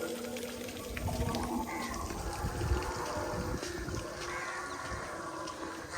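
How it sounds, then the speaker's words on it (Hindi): Water splashes and gurgles continuously from a fountain set up beside a dinosaur statue in a dinosaur park, a steady outdoor wash heard fairly faintly. "ये डायनासोर के पानी पीने के लिए यहाँ पे फौरा लगा रखा है"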